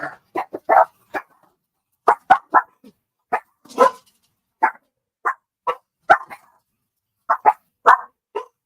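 Dogs bark in repeated sharp bursts, several barks in quick clusters separated by short silences, loud and close.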